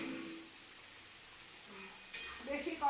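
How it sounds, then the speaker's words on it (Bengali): Water is poured into red amaranth greens frying with sesame, salt and peanuts in a pan, setting off a sudden sharp sizzle after a quiet, faint stretch, then rising bubbling hiss. "আর এর মধ্যে আমি একটু জল অ্যাড করে দিচ্ছি"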